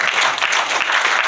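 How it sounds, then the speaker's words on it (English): A short burst of loud, dense applause from a crowd at a corporate conference, many hands clapping at once without pause. "big round of applause to everyone"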